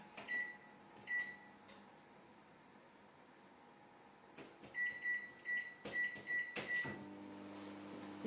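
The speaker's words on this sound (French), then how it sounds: "Bien sûr, au micro-ondes." A microwave oven runs with a steady fan hum while heating quiche cornets at 600 watts, broken by a short run of repeated high beeps and some clunks of the door or cupboards nearby.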